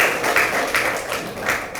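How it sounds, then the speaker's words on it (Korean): A hall audience at the Justice Party leadership inauguration and farewell ceremony gives applause of consolation to the outgoing leadership team. It is a steady, fairly close crowd clapping with repeated swells. "큰 박수로 한번 위로의 박수 부탁드립니다."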